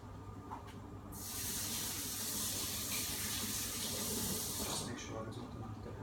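A tap runs hard for several seconds in a steady, close hiss of gushing water while a spring onion is washed under it, with faint talk before and after.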